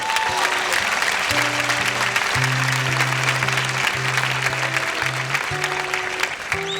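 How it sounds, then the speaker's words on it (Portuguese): A congregation at a church service applauds loudly and steadily, a thick continuous clatter of clapping with sustained low organ-like tones playing underneath. "Pode aplaudir, porque você merece."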